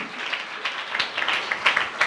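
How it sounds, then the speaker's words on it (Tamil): A church congregation claps their hands in a brisk, continuous patter of applause, moderately loud and fairly even across the short stretch, without talk. "நல்ல கைத்தட்டி ஆண்டவருக்கு நன்றி சொல்லுங்க"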